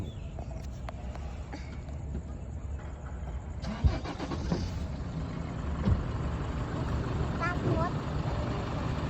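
A car engine cranks and starts, then settles into a steady low idle running under the rest of the clip, with voices of people nearby.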